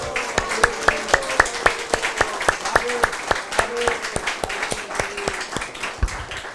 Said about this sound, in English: Just one more big applause for Gopi Gita Mataji and all her effort.